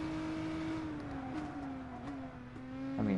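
Nissan GT-R R35 engine in GT Sport, a steady droning hum with a slowly falling pitch during a drift, ending in a brief rise in revs.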